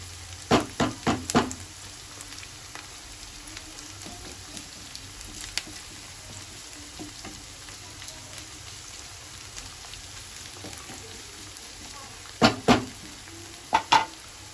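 Ivy gourd curry quietly frying in a pan, a soft steady sizzle running throughout, with brief clusters of sharp ticks and pops near the start and end, close by and without talk.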